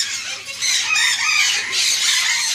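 Loud, continuous clucking and squawking from a flock of chickens nearby during a solar eclipse, overlapping calls with no pauses.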